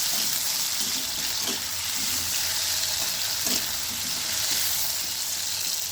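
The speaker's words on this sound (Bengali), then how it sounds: "কুমড়োগুলো খুব ভালো করে ভেজে নিতে হবে।" Pumpkin pieces frying in a pan give a loud, continuous sizzle close up, with occasional soft scrapes of stirring beneath the steady hiss and no one speaking.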